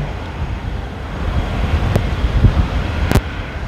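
Strong sea wind buffets the microphone in a continuous low rumble, punctuated by a couple of sharp clicks.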